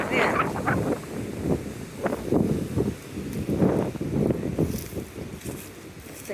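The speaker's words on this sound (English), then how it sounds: "It's a big wind." A strong wind gusts across a yard in Ohio during spring cleanup, making a steady broadband rush with rustling. Voices talk intermittently underneath.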